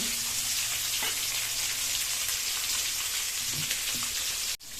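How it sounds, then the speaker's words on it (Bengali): An egg fries in a pan of oil for a spicy egg and eggplant dish, giving a continuous close crackling sizzle with a few faint pops, cut off abruptly at the end. "এদিকে আমরা আগে ডিমটা খুব সুন্দর করে ফ্রাই করে নিচ্ছি"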